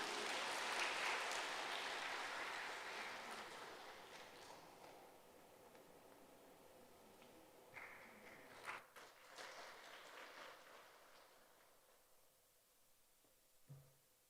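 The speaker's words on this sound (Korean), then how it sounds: "박수 한번 쳐주세요." A church congregation claps during a Sunday worship service, a broad wash of applause that starts fairly loud and fades over several seconds, leaving a few scattered claps and small knocks in a quiet hall.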